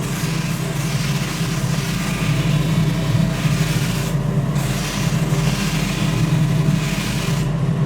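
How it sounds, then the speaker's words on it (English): A drum sander fitted with a coarse 60-grit sleeve works a wooden bat, giving a steady, loud, continuous grinding rasp that barely changes throughout. "So this is drum sanding. We've got a coarse sleeve on there at the moment."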